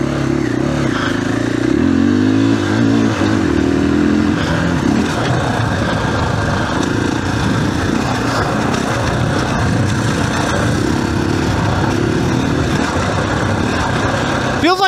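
A 2021 KTM 500 EXC-F dirt bike's 500 cc single-cylinder engine revs close and loud, a steady throbbing roar that climbs and falls with throttle blips, under a talking voice.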